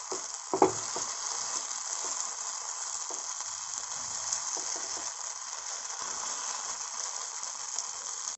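Paneer sizzles and fries in hot oil in a pan, a steady hissing crackle heard close up, with a clatter of utensils near the start and no talk.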